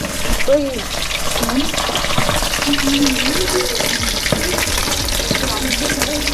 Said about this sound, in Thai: ทอดปลาทู สามตัวก่อนเลย